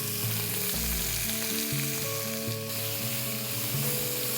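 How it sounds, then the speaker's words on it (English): Sliced onions and a sprig of curry leaves saute in hot oil with whole spices for a Durban mutton curry, a steady close sizzle running unbroken throughout. "let's saute these onions to a beautiful golden brown color"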